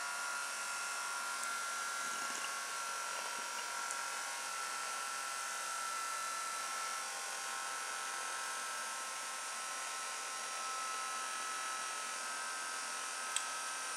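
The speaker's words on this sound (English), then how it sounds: "You can probably hear the motor dying as we talk." A small electric motor in a bargain store toy hovercraft buzzes steadily as its battery runs down, a thin, high whine heard close and continuous with no voices over it.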